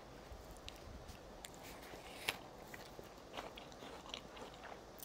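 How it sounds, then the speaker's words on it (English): A bite into a potato salad sandwich, with a few soft crunching and chewing sounds close by, quiet and without talk. "I'm going to try one sandwich."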